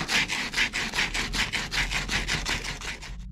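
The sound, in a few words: sanding HVAC copper pipes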